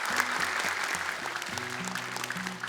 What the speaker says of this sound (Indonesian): Boleh tepuk tangan untuk dua peserta terakhir kita